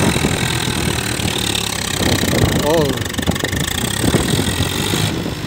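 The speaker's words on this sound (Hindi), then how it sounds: "744 FE 4-स्टार मॉडल और चलना शुरू कर दिया है" Swaraj 744 FE tractor engine running steadily in a field, a continuous loud mid-pitched drone throughout, with people talking and shouting over it.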